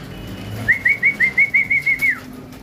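A pigeon named Opal beats its wings close by, producing about ten evenly spaced, whistling wingbeats in a quick rhythmic burst that rises and then cuts off, with no voices.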